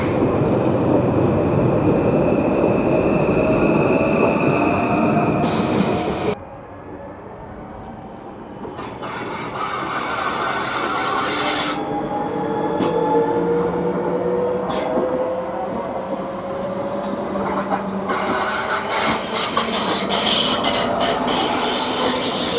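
Interior of a moving ICE 3M high-speed train, with a loud steady rumble and rushing rolling noise. It drops sharply about a third of the way in, then continues with faint squeals and rising tones.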